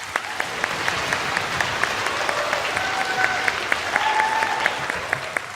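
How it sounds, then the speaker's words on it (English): Applause from an audience at an elementary school end-of-year assembly, a steady round of clapping lasting several seconds at an even level with no one speaking. "Round of applause for those students."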